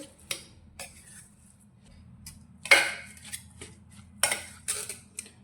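A spoon stirs a warm jaggery mixture for a farali fasting sweet, giving intermittent metallic clinks and scrapes against the pan, with quiet pauses between strokes and no talking.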